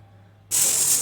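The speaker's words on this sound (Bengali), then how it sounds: "কড়াই বসিয়ে দিলাম তার মধ্যে দিয়ে দিলাম সয়াবিন তেল কিছু রসুন ভালো করে ভেজে নিব" Garlic hits hot soybean oil in a wok, and a sudden loud, steady hiss of frying starts after a brief quiet moment and holds.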